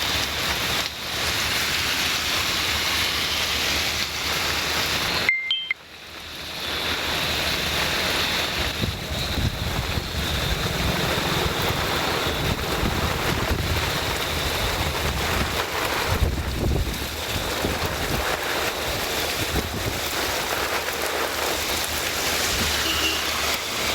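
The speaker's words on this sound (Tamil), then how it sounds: "பெஞ்சல் புயல் காரணமாக மரக்காணத்தில் கனமழை பெய்து வருகிறது." Heavy cyclone rain from Cyclone Fengal pours down steadily over Marakkanam in Villupuram, a dense continuous hiss with gusting wind and a brief cut partway through, with no voices.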